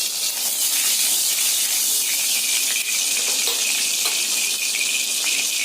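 Cumin seeds, bay leaf and dried red chilli sizzle in hot oil in a pan, a steady loud hiss and crackle that runs throughout with no talking.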